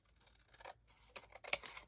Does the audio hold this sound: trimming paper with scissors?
yes